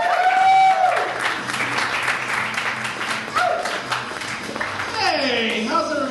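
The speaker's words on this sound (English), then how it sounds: "Please give it for Kyle Scanlan." Audience applause at The Edge Comedy Club in Chicago as a comedian is introduced: steady clapping from a small crowd, mixed with voices and cheers from the room.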